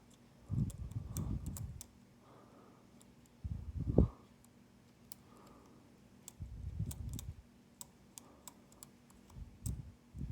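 Faint, sparse ticks from pins inside a Sargent Keso lock being picked, scattered across the clip beneath low rustling and handling noise, with no talking.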